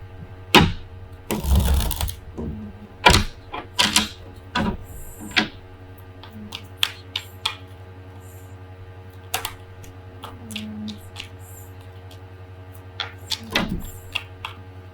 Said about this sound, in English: Too many cards fell out here, so I'm going to put them back.